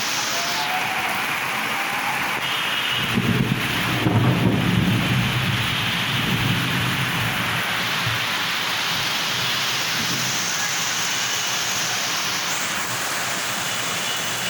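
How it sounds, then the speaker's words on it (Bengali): Heavy rain pours over a city at night in a steady broadband hiss, with low thunder rumbles swelling around the middle, continuous and fairly loud with no talk. "কিন্তু প্রচুর বৃষ্টি হইতেছে"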